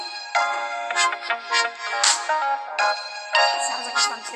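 Ringtone from a Samsung Galaxy A03 phone: a clean synthetic melody of bell-like notes in short repeating phrases, loud and close with no other sound.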